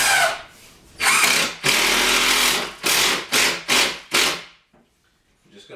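A power drill drives self-drilling cabinet screws into a mobile home kitchen cabinet in several close, loud bursts, the first long, then shorter runs tapering off, each whirring up and stopping abruptly.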